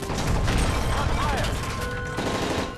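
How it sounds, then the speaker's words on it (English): Heavy gunfire in a Call of Duty Modern Warfare 3 plane-hijack scene: dense, continuous bursts and crashes fill the cabin loudly throughout, with shouting voices mixed in. "That's gunfire!"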